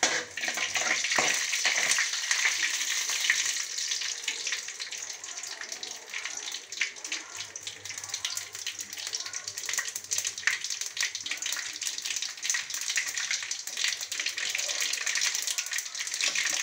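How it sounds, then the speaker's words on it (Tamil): Mustard seeds splutter in hot oil in a pan, giving a dense continuous crackling hiss with rapid popping throughout, close and steady, with no talking. "கடுகு இப்போ பொரிய ஆரம்பிக்குது பாருங்கள்"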